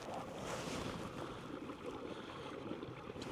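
Water gushes from a full pipe at a homestead being readied for opening weekend. A steady, close broadband rush holds level throughout, with no voices.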